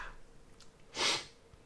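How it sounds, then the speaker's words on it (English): A person stifles a sneeze with a soft sniff, one short close burst of breath in the middle of an otherwise quiet moment. "Ooh, I'm trying to sneeze here."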